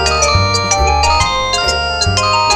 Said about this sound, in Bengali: বল্টুর ফোন, আবার কি হলো কে জানে।